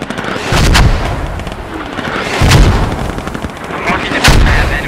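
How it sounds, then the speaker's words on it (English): Mortar strikes and gunfire in a tactical multiplayer squad video game, three heavy booming impacts spaced about two seconds apart over a continuous rumble and crackle of distant shooting. "I've got mortars going up on that hill that's going to suppress that hill and dust it."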